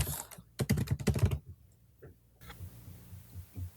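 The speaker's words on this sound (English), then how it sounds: "Somebody has a nice mechanical keyboard. Nope. That was just me typing loudly." A mechanical computer keyboard is typed on loudly in a fast burst of close, clicky keystrokes, and a few softer taps follow against a quiet background.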